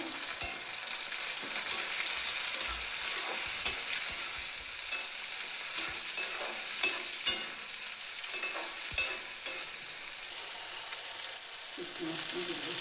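Steady loud sizzling of onion and tomato frying in a pan, with frequent scraping and knocking of a spatula stirring throughout.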